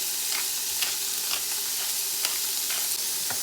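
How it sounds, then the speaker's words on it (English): Vegetable fried rice being stirred in a pan after salt and black pepper go in, a steady close sizzle with repeated scraping strokes of the utensil at an even rhythm, no voices. "Okay, we're gonna mix in this black pepper and the salt."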